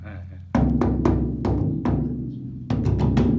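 A traditional drum struck several times after its skin has been tightened, giving a higher-pitched tone; sharp, close hits in an uneven rhythm with pauses, ringing over a low background hum.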